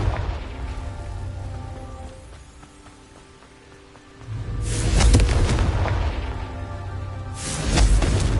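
Confringo fire spell in Hogwarts Legacy, with two loud booming blasts that erupt with a crackling roar and decay, separated by a few seconds of quieter ambience.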